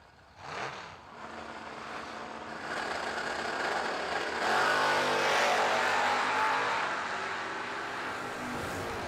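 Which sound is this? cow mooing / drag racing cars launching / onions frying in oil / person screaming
drag racing cars launching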